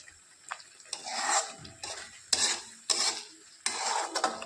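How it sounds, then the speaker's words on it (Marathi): Water poured into spiced masala frying in a pan for a spicy pea and paneer curry, heard as bursts of hissing and bubbling with spoon scrapes against the pan, several rough surges in turn with no talk. "टाकायचं पाणी"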